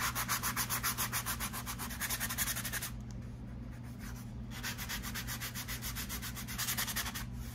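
A cheap $1 Dollar Tree sanding block rubbed back and forth over a surface, rapid rhythmic scratchy strokes close up, with a brief slower patch midway before the quick scrubbing picks up again.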